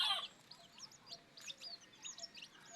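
A five-month-old rooster clucks softly and repeatedly at close range, short irregular clucks over a quiet background.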